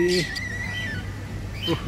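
Parrots and pigeons calling inside an enclosure at Jawalakhel Central Zoo in Nepal: a cooing call at the start and again near the end, with thin chirps and faint voices in the background.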